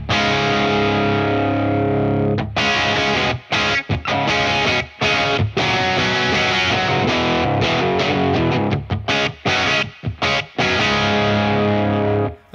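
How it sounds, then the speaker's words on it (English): Electric guitar with a heavily overdriven tone, played through a Victory V4 amp with a Revival drive pedal, with everything set at noon. Loud and sustained chords ring for long stretches, then give way to choppy stops and rhythmic bursts. "this is how it sounds with the Revival drive in"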